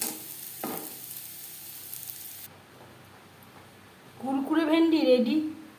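Okra coated in gram flour fries in oil over a high flame, giving a bright, steady sizzling hiss for the first couple of seconds before it falls away and a voice takes over.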